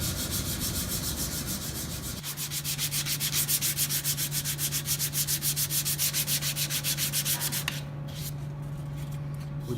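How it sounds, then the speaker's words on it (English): Sandpaper of 220 grit is rubbed diagonally across a shaped workpiece before priming, giving rhythmic, close scratchy strokes in a fast steady back-and-forth pattern under a constant background hum. "With the 220, I've just done a diagonal sanding"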